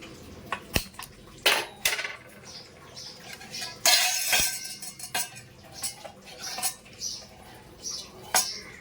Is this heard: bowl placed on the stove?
yes